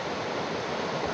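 Tad Yuang waterfall near Pakxong, Laos, rushing water with a steady, dense roar that fills the space evenly and continuously, with no voices.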